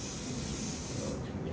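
Hairspray hisses from an aerosol can onto an updo in a hair salon, one steady close spray lasting over a second before tapering off.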